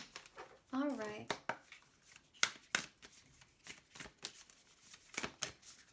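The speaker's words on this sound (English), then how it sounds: "One last shuffle." Tarot cards being shuffled: a series of sharp, riffling card flicks and slaps, close but fairly quiet, recurring through the clip with a voice talking briefly in between.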